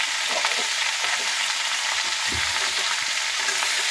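Pumpkin pieces fry in a pan with salt and turmeric, giving a steady, close sizzle throughout with faint stirring scrapes and no voices.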